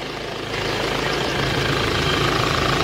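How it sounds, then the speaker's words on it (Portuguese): A Fiat Ducato van from 2013/14 with 310,000 km idles quietly up close, a steady, even engine hum with a low, smooth rumble and no voices. "Motor caladinho aí, ó."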